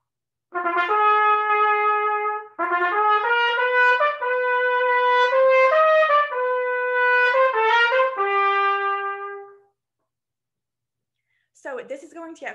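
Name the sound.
fanfare-like passage from Otto Ketting's Intrada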